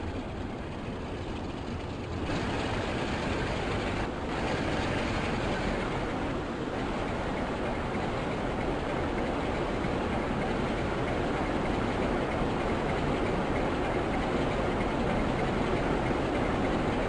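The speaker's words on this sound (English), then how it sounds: "we pass a Class 47 diesel electric," A Class 47 diesel electric locomotive passing with a train from Aberdeen, heard as a steady loud rumble that swells after a couple of seconds and stays broad and sustained throughout.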